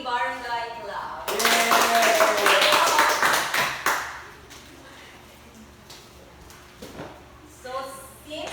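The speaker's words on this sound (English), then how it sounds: "let's give everyone a barangay clap" A classroom of students gives a rhythmic barangay clap, a burst of patterned claps and taps after a speaking voice, fading into scattered claps before the voice resumes.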